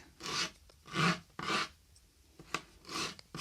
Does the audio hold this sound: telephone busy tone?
no